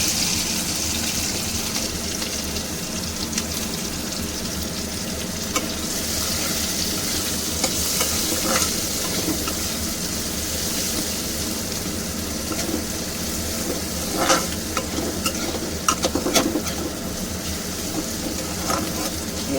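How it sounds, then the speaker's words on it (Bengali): Chopped onions fry in a pan with a loud, continuous sizzle and crackle, with clinks and scrapes of stirring becoming more frequent toward the end; no talking. "পেঁয়াজটা একটু লাল করে ভাজবো"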